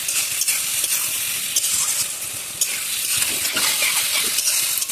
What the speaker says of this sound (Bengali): খুব মনোযোগ দিয়ে কষাতে হবে, যতক্ষণ অবধি সবজি থেকে তেল ছাড়ছে না।